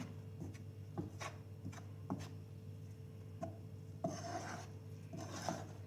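Flour being stirred in a pan for Turkish flour halva, a spoon or spatula scraping and rasping against the pan bottom in irregular strokes, close and fairly quiet over a steady low hum, with no talking.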